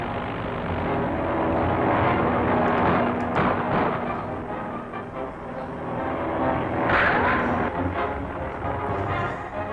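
Aircraft engine drone from a radio serial sound effect, a steady loud airplane roar sustained throughout with swelling passes, no talking.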